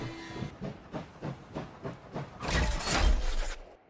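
Steam train from the game Last Train Home pulling away: rhythmic chuffing bursts about twice a second, then a loud sustained hiss of released steam near the end, close and with no talk.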